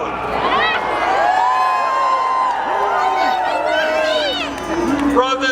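A huge crowd at a Bernie Sanders rally in Queens, New York, cheers and shouts in a loud, sustained roar, with rising whoops and voices layered throughout.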